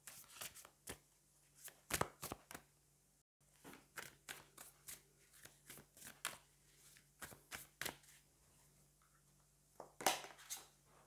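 Tarot cards being shuffled and drawn, with crisp, close card flicks and snaps arriving in an irregular rhythm, some sharper slaps among softer riffles, quiet between them and no talking.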